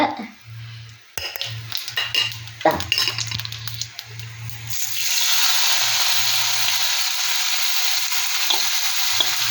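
Banana flower thoran frying in a pan with cumin and chillies, scraped and stirred with clinking utensil knocks, then settling into a steady loud sizzle.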